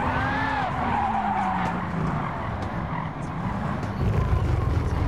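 Loud, sustained tire squeal from a Gran Turismo racing car over a roaring engine, with a high electric-sounding whining screech that rises and falls throughout.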